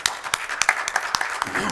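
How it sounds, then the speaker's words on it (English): Scattered applause from a small crowd at a city council meeting, individual claps popping irregularly with a murmur of voices underneath. "A big round of applause"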